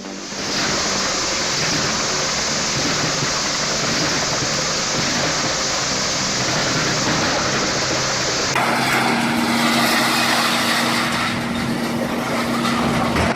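A 300XL wood chipper runs at full power with a dense, loud, continuous roar and grinding rush that shifts and intensifies partway through, with no let-up.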